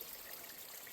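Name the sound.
mountain stream flowing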